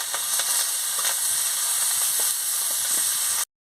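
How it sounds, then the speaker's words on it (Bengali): Chopped onion and green chilli sizzle steadily in hot oil, a bright continuous frying hiss with small crackles, close and even, ending in sudden silence. "তেলটা গরম হয়ে গেছে, আমি পেঁয়াজ কুচি আর কাঁচা লঙ্কা কুচিটা দিয়ে দিচ্ছি"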